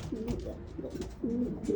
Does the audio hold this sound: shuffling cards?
no